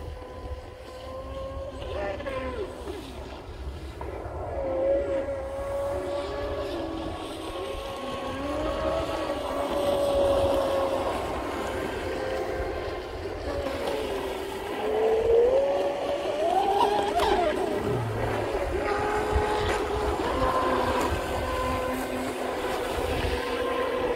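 A Deltaforce 35 fast electric RC boat runs ovals on the water, its thin motor whine rising and falling in pitch as it sweeps near and away, over a steady wind-like rumble.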